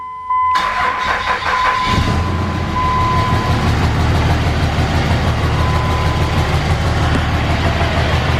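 A 3rd-generation Cummins diesel truck engine cranks briefly after a pause, then fires and settles into a loud, steady, rattling idle, heard up close with no talking.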